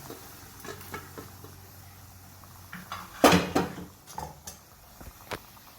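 Boiled chana dal is tipped into a pan of spinach-tomato gravy, giving one loud, wet clattering dump of pulses against the pan, then a few scrapes and clinks of a spoon over a soft simmering background.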